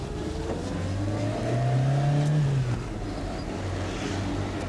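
A car drives along while tailing someone, its engine a steady low drone that swells in pitch as it accelerates, then settles back, near and continuous with no talk.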